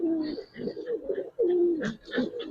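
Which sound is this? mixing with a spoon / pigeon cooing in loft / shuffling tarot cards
pigeon cooing in loft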